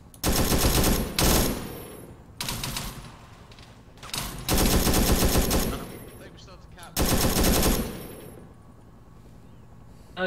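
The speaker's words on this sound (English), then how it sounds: "Oh, you're still shooting even though you're down." Automatic and rifle gunfire in a Vietnam War video game, heavy loud bursts in four separate volleys with quieter crackling shots and background battle noise between them.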